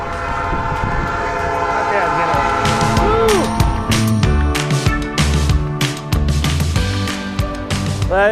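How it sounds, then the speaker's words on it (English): A freight train rolls past close by with heavy rumbling, sharp rhythmic wheel clatter and repeated metallic squeals, loud and continuous throughout. "Oh, there's a train."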